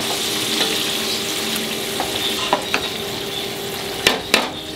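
Meatballs dropped into a simmering tomato and onion sauce sizzle and crackle steadily, with a few sharper pops and spoon or ladle taps breaking through the continuous frying hiss.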